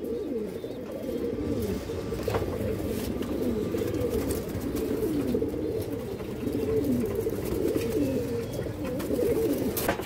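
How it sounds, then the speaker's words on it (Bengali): A female pigeon, silver-type fancy breed, coos in repeated low rolling phrases close by, with a steady murmur of more cooing around it. "মাদি কবুতর দর্শক।"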